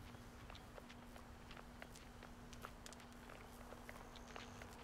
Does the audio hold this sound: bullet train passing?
no